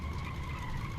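Aircraft tyres skid under full braking in X-Plane 12, a steady loud rushing screech with engine drone held throughout, heard alone without talk.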